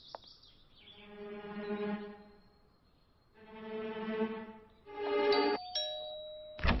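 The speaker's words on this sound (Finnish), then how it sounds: "Soitan ovikelloa hämäykseksi." A two-tone doorbell chime rings out clearly, a ding-dong pair followed by a third ringing tone, loud and close with no talking.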